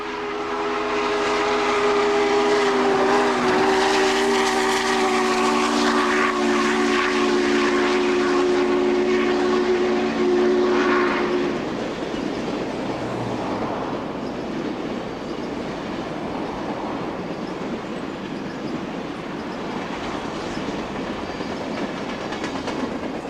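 Union Pacific steam excursion train on an anniversary run roars past grain elevators, loud and close, with a long steady whistle blast and rushing wheel noise that cuts off abruptly and leaves a fading rumble.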